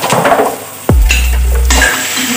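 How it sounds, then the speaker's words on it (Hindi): Ground spices such as turmeric, red chilli, coriander powder and garam masala sizzle as they are stirred and roasted in a frying pan, with scraping and a low sustained hum, loud and close. "इन सब चीजों को हमें मिक्स कर लेना है और थोड़ा सा भून लेना है दोस्तों"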